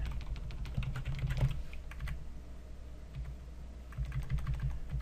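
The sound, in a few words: typing on a computer keyboard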